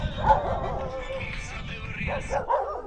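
A stray dog at the Gori bus station gives a few short yipping barks and whimpers nearby, mixed in with a person talking.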